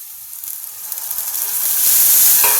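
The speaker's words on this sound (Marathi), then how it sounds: "आता हेच पाणी मी यामध्ये टाकते" Hot water poured into a hot pan of dal hits with a loud, rising sizzle and hiss that swells and steams steadily toward the end, with no talking.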